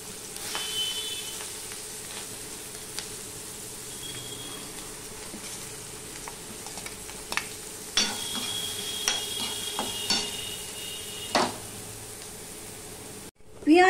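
Onion and chilli fry in oil in a pan, making a steady low sizzle punctuated by sharp metallic stirring clicks and scrapes at close range, ending in a brief clatter.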